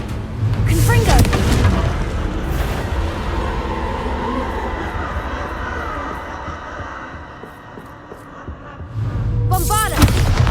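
Confringo blasting spell cast in Hogwarts Legacy, heard as deep booming bursts near the start and again near the end, with a low rumbling game ambience throbbing steadily in between.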